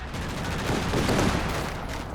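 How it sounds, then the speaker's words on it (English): Strafing machine-gun fire in the Company of Heroes 2 video game rattles as a dense, continuous burst of rapid shots, loud and unbroken, with no talk over it. "Interrupted the strafing fire. I don't know what happened there. It stopped mid-burst."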